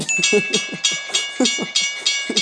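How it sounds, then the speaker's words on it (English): A train rolls past with rhythmic clattering of wheels over rail joints, repeating in regular beats while a steady high tone rings above. "This is going to be Doc Brown and his new time travel train"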